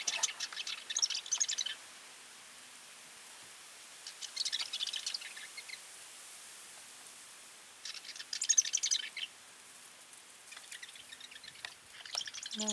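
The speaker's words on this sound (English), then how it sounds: "Birds right in there." Birds by the Rat River give faint, quick chirps in several short bursts separated by quiet gaps, heard from a canoe outing.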